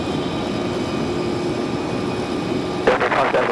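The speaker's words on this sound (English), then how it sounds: "Got a CRJ up for departure." A CRJ regional jet lined up for departure at Raleigh-Durham airport, its engines a steady whining hum with tonal lines, joined near the end by a sudden louder burst of noise, with a voice in the background.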